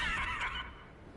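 A horse neighs in a short, bright whinny in a video game, fading after about half a second and leaving a low background rumble.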